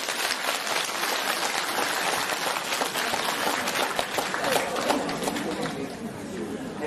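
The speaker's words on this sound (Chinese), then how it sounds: "让我们掌声欢迎。" Continuous applause fills a large hall at a Buddhist followers' gathering in Hong Kong, thick and even throughout, with crowd murmur mixed under the clapping.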